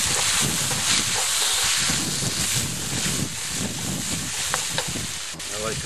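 Chicken frying in a pan in nothing but its own rendered fat, a continuous close crackling sizzle with popping spatters and a steady hiss.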